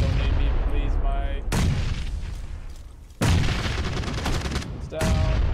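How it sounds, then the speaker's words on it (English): Gunfire rings out in the PUBG video game, loud bursts of rapid shots that cut off and resume, with booming reports at the start and later, while players talk over the action. "Both of us shooting at him"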